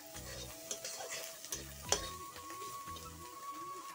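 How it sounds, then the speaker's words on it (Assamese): Bitter gourd and potato frying in a pan, with a soft steady sizzle under repeated scraping and stirring strokes from a utensil, plus a few light clicks, close and fairly quiet with no talking. "আৰু এফালে মই তিতা কেৰেলা আলু ভাজি আছোঁ।"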